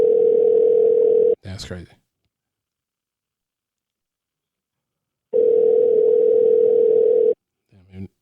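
Phone ringing tone while calling Jay during a quarantine video call, two long steady ring bursts separated by silence, with brief speech between them.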